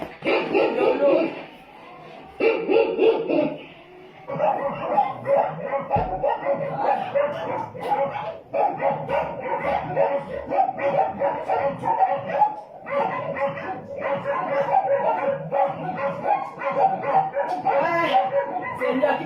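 Dogs barking and yipping in a domestic setting, the barks recurring in bursts throughout and mixed with ongoing human voices and movement.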